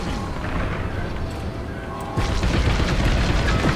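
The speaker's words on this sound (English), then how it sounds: "start dropping bombs and do not stop" Bombs exploding in the Star Wars Squadrons space combat game, a dense rumbling barrage of deep booms that swells louder partway through, with no break in the heavy blasts.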